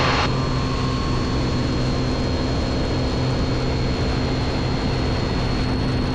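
A Piper Comanche 250 roars at full power during takeoff, a loud, steady droning engine and propeller hum with a constant low tone throughout, close and unbroken.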